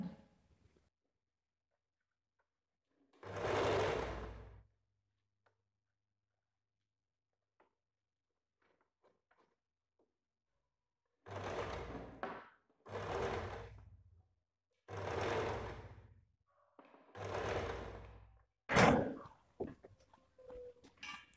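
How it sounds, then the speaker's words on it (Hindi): A sewing machine stitches pleats into a puff sleeve in five separate bursts of whirring, each a second or so long, with quiet pauses between them and no talking. "दोबारा से हमें यहां से सिलाई देना है।"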